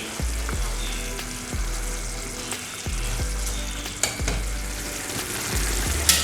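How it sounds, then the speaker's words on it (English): Peanuts being stirred into hot treacle in a pan for peanut chikki, with a steady close sizzle and repeated scraping strokes of the spoon against the pan, no talking. "Mix it with the treacle we have made."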